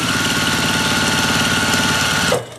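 A sewing machine runs steadily while stitching around the perimeter of a quilt block, giving a close, fast, even mechanical hum and chatter that cuts off abruptly near the end.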